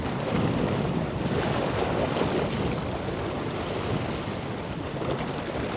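Strong wind buffets the microphone on the Bristol Channel shore during a fishing session, a loud continuous rumbling roar mixed with surf-like wash that never lets up and carries no speech.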